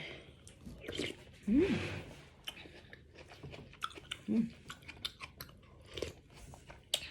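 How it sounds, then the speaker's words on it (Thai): Canned rambutan being eaten close up, soft wet chewing and biting with crunchy bits and small smacks, quiet, plus a couple of brief murmured vocal sounds. "กินเงาะกระป๋องก่อนเลยเดี๋ยวสิไปนอน"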